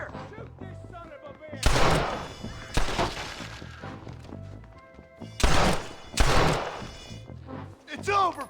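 Gunshots in Red Dead Redemption, several loud, close blasts in bursts with pauses between, while voices shout in between the shots.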